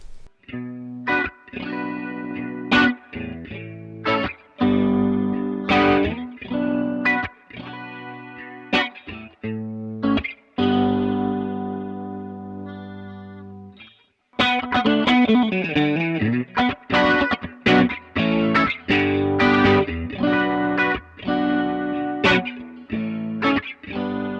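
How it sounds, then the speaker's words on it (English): Electric guitar run through a Keeley Rotosonic pedal emulating a rotating Leslie speaker plays a steady stream of chords and riffs, with a swirling, chorus-like warble and a brief pause midway before the phrase continues. "I'm using the Keeley Rotosonic to emulate the sound of the rotating Leslie speaker"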